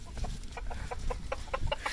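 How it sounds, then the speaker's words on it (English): Farm chickens let out of their coop to peck at scratch, clucking in a quick, regular series of short calls over a low rumbling background. "Oh, they're out! They're gonna start pecking for their chicken scratch."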